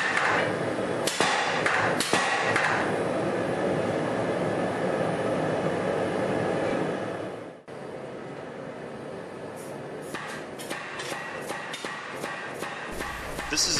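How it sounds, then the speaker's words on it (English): A Ken Zitur KZ100 power hammer strikes with rapid repeated blows, then a brief pause and a series of separate heavy single strikes, loud and close in a noisy workshop. "Here I go from multiple blows to single hit blows, again without any adjustments to the power hammer"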